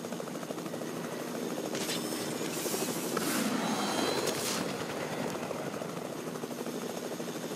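Helicopter flying in Fortnite, a steady, loud rotor and engine drone that holds near and constant throughout, with no talking.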